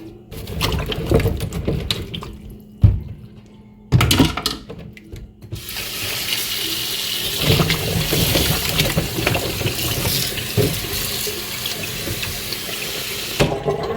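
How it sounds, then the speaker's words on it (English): Cucumber and eggplant being washed with salt under a running kitchen tap, steady water rushing into a sink for most of the stretch with a few knocks and clatters, near and fairly loud, no talking. "So I'll just use my salt to wash it."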